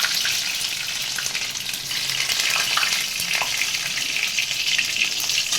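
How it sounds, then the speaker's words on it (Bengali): Chopped garlic frying in hot oil for dry chilli chicken, a dense, even hiss of sizzling with a few faint stirring clicks, close and steady with no voices. "এবারে আমি ওই তেলের মধ্যে কিছুটা রসুন দিয়ে দিচ্ছি, রসুনের কুচো দিয়ে দিলাম"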